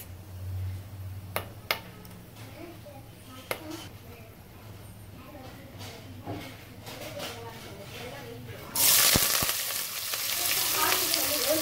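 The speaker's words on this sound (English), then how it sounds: "Next, I'm going to add the onion, chili and curry leaves." Onion, chili and curry leaves fry in hot oil with whole spices for a beetroot biryani, a steady sizzle with scattered clicks and taps that swells into a loud burst of spattering as they hit the oil; a voice speaks over it.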